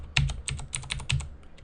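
Quick bursts of keystrokes on a computer keyboard while entering a number into a Python program, close and fairly loud, in uneven clusters of taps with brief pauses, no voices.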